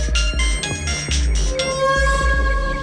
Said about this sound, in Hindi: भाई आपका फोन आ रहा है।